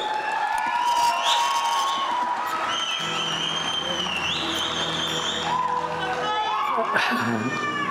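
At a film trailer launch event, a hall crowd claps and cheers steadily under loud amplified speech and background music, the applause continuous rather than building to a peak.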